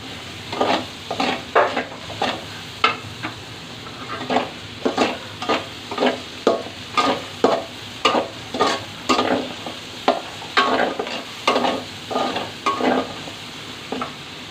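Garlic or ginger frying into crispy beresta in a pan for a Bangladeshi chicken roast, a steady sizzle broken by a regular run of stirring scrapes about once a second, close and fairly loud, with no voices.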